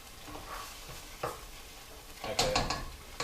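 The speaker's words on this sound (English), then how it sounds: "You're going to want to bring it up to a boil, which it boils pretty quickly." Brown sugar, flour and jerk seasoning sauce comes to a boil in a pan while a spoon stirs it, giving a soft sizzle with faint scraping and a few louder stirring scrapes near the end.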